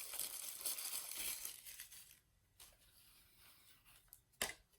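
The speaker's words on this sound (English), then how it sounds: "take all the plastic off." Plastic packaging is pulled off a wall outlet charger in a few close, soft crinkling and tearing bursts with quiet pauses between them.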